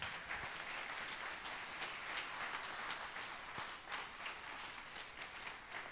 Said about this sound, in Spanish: Dale una ofrenda de palmas.